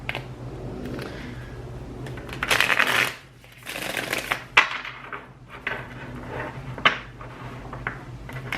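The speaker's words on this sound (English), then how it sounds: "So, quick shuffle." A tarot deck shuffled by hand in quick bursts: a loud riffling rush near the start, then several shorter card flutters and taps, close and clear with no talking.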